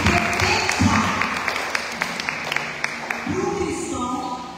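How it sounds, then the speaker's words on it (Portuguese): A church congregation applauds during a sermon, rhythmic clapping rising and spreading across the room, mixed with a few voices and tonal murmurs. "Você pode aplaudir o Senhor?"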